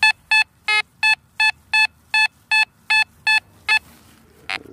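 A Fisher F44 metal detector beeps over a solid buried target during an outdoor hunt: about eleven evenly spaced, loud electronic tones in a rapid rhythm, ending with a short burst of noise.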